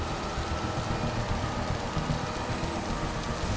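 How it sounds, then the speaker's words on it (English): Heavy rain pours in a dense, unbroken roar with no letup, loud and close throughout. "The rain would pour, and then it would pour heavier and heavier and heavier."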